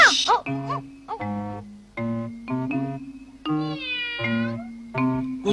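A cartoon cat in a Doraemon episode meows repeatedly in a run of clear, tonal, sing-song calls over a steady musical backing, loud and close.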